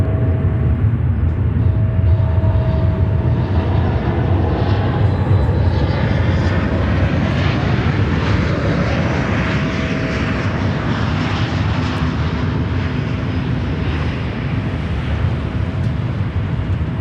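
An Aeromexico airliner from Mexico City at Chicago O'Hare roars steadily and loudly, a broad continuous jet engine rumble that holds near for the whole stretch without voices.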